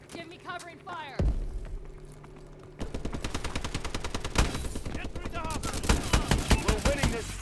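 Rapid automatic gunfire crackles through a Call of Duty Advanced Warfare match, with dense, loud bursts and a heavy blast early on, followed by sustained firing; a voice speaks briefly beneath the shots.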